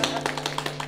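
Brief patter of hand clapping from a small group in an office gathering, congratulating a director on a military science award, layered over a steady low hum, with no voices.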